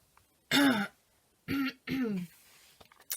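Three throat-clearing bursts from a person with a dry throat, close and fairly loud, the first the longest, then two shorter ones about a second later, with faint rustling at the end.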